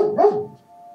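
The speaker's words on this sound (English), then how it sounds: "Bloody dog." A dog lets out a single sharp bark indoors, a short loud burst that fades quickly into a faint, steady electronic hum.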